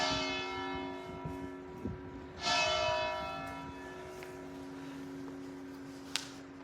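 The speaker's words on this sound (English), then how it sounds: "it's 5 o'clock. Might as well listen to the bells." Church bells ring the five o'clock hour with a sustained, humming resonance, one strong strike swelling midway, steady and moderately distant with no talking.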